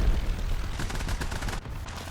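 Gunfire in War Thunder, a loud, dense roll of rapid shots and booming blasts that keeps going without a break.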